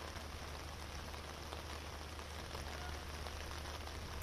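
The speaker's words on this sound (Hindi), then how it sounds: "दिल्ली एनसीआर ने इस तेज बारिश को देखा है" Heavy rain falls steadily over Delhi NCR during a storm, a dense, continuous hiss with no voices.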